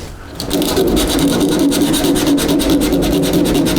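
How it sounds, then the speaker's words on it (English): Coarse 40 grit sandpaper roughs up a car body panel in a steady, close, continuous scrape that runs without pause after a brief quiet start. "I'll rough up this area right around it with that 40 grit"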